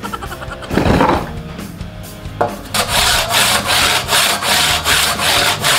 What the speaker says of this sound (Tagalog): Tunog pa lang ng lagari